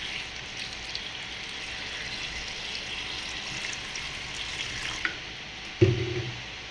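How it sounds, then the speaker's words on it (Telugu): Water running from a tap into a pot, a steady, fairly soft gushing stream that continues throughout, with a brief clunk of the pot near the end. "కొన్ని వాటర్ పోసేస్తాం."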